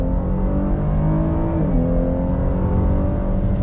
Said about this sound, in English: Let's go on throttle in our Blazer RS.